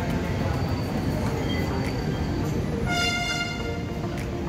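A light rail (LRT) train rumbles along steadily, with metallic squeals and tonal whines rising near the end; faint voices may sit beneath the noise.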